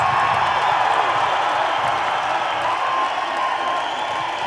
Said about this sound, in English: Let's welcome our Miss Hooters International pageant judges. Give them a round of applause.